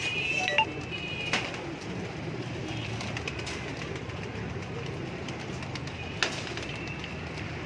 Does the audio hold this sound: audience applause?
no